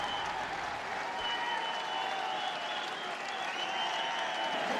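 Racecourse crowd at the Cheltenham Festival applauding AP McCoy's winning horse after the 2009 Ultima Handicap Chase, a steady wash of clapping and cheering held at an even level throughout.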